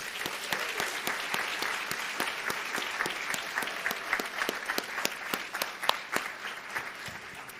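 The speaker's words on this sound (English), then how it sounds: "one more big round of applause for all of you" Graduates and guests at a white coat ceremony for the class of 2025 break into applause, a crowd clapping with many crisp, distinct claps close by over a softer spread of hands, lively and sustained.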